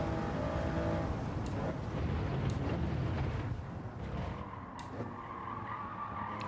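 In a racing video game, a Toyota Yaris car slides and skids through a corner, with a continuous engine drone and rough tire scrubbing that eases off toward the end.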